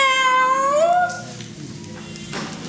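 A voice imitates a cat's meow, one drawn-out, rising and falling call that fades into quiet background.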